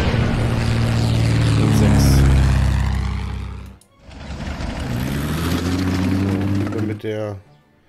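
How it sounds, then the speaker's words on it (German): Heavy bomber aircraft in the Order of Battle war game: a loud, steady drone of piston engines with harmonic hum, pausing briefly midway, then resuming with a rising whine before fading. "Jetzt auch mit den dicken Bombern."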